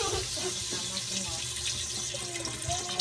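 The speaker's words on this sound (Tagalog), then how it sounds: "Lagyan natin ng tubig." Water runs steadily into a cooking pot over a low flame, a continuous close splashing and gurgling with no break, over faint background clatter.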